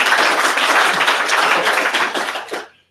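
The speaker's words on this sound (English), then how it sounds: "You shouldn't clap until you see when it's worth it." An audience claps together in a hall for about two and a half seconds, a dense steady patter that fades out quickly at the end.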